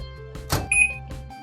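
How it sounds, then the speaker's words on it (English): A microwave oven heating berry jelly powder soaked with water and sugar lets out a brief electronic beep partway through, over steady background music. "Heat it up in a microwave"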